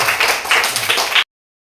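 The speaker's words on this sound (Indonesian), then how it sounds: "Tepuk tangan untuk kita" A group of children claps hands together for about a second, a dense burst of close slaps ending abruptly in silence, with no talk.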